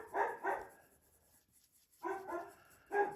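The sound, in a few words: dog barking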